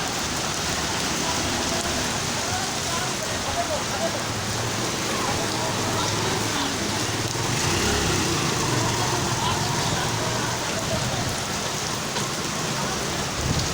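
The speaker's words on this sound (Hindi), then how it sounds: "जम्मा जी दोबारा बारिश है" Steady rain pours down in a continuous dense hiss, with vehicles rumbling faintly nearby and a voice talking under the downpour.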